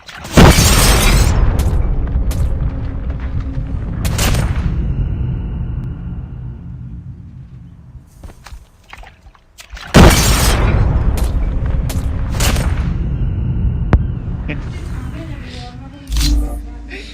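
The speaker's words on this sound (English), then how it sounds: "Hostile Predator missile inbound." A Predator missile explodes in a competitive shooter game with two heavy booming blasts, each followed by a rumbling decay, mixed with game sounds and sharp clicks.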